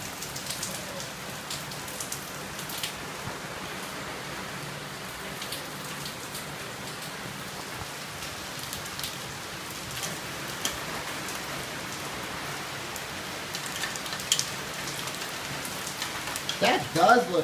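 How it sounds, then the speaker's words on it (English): Heavy rainstorm with tiny hail in Orlando, Florida, a dense, steady patter of drops striking nearby surfaces that continues without a break, close and even throughout, with no talking. "Looks like it is hailing a very little bit."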